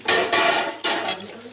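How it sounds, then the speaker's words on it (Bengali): A metal lid clanks as it is lifted off a kadai of frying bhindi (okra) for bhindi posto. Two or three quick, close knocks ring against the pan, followed by a soft, fading sizzle. "ঢাকনা খুলে দেখে নিচ্ছি একবার।"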